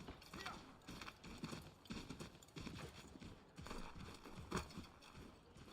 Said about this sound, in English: Back here, horse.